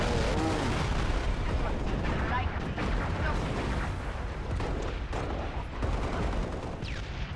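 Green gun fire in Halo Reach during the Legendary Tip of the Spear mission: loud, dense game combat with continuous booming shots and explosions, sustained throughout.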